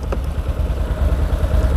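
ODES 850cc ATV with fuel injection, electric power steering and 4WD, its engine running steadily with a deep low rumble and light mechanical clatter, close by with no talk over it.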